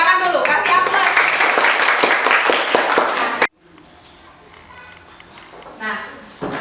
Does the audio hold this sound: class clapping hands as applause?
yes